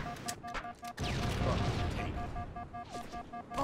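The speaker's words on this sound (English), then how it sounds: "Nope, that's a grenade." A grenade goes off in Halo: The Master Chief Collection online multiplayer, a loud sustained blast burst under a voice that keeps talking over it.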